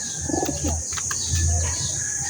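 A pigeon coos in short soft bursts as it is released, close by, with faint chirps and a steady high hiss of background behind it.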